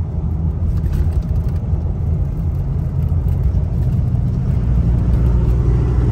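A Cummins diesel truck engine in fifth gear surges around 2,000 RPM, a steady, loud low rumble and whir with little clear rise and fall, heard from inside the cab without talk.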